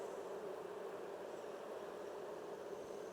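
Honeybees hum around hive frames during an inspection, a faint, steady, continuous drone with no pauses. It stays low and distant and carries no speech.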